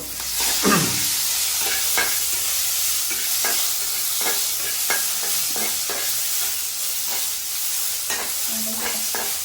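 Shallots and green chillies sizzling in a pan, stirred with a series of sharp scraping strokes over a steady hiss of frying, close up.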